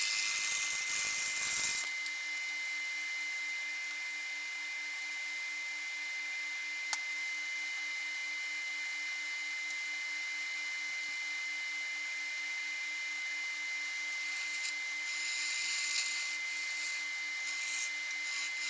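A bowl gouge makes a steady, even rushing hiss as it push cuts spalted hackberry on a lathe, close and continuous for the whole stretch, with a brief scrape at the start and some rougher scraping near the end.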